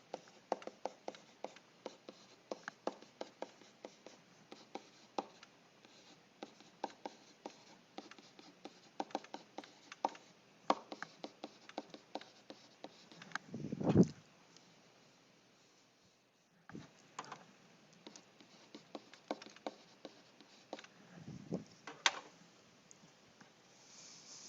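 Numbers being written down by hand on paper, quiet pen scratches and taps in irregular short strokes, close and faint, with brief pauses and a couple of louder rustles.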